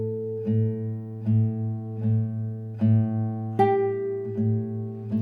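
Spanish guitar plays the slow, melodic contrasting section of Malagueña with thumb and index, a series of ringing plucked notes and chords at an even, unhurried pace, close and clear, with no voices.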